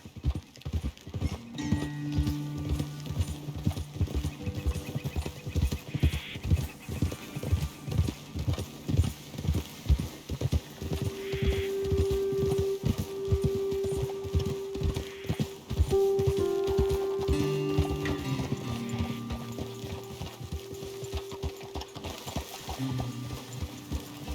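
Horse hooves clip-clop in a fast rhythmic gallop in the video game Red Dead Redemption II, with occasional whinnies and a sustained musical tone over the hoofbeats; no talking.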